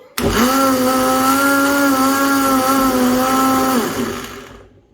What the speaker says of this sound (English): So right now I'm going to switch on my blender.